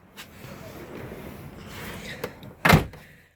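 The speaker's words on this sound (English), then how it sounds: "I'll just close this now." A motorhome habitation door on a Frankia Exclusiv 640 is pulled shut, with quiet rustling and a small click before a single loud, close slam near the end.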